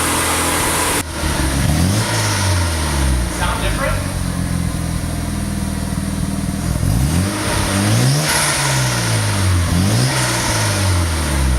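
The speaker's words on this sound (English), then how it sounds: "First startup with downpipe" Mazda RX-7 FD3S rotary engine with a newly fitted downpipe, idling then revving repeatedly in several rising-and-falling sweeps, loud and close, with people talking over the engine.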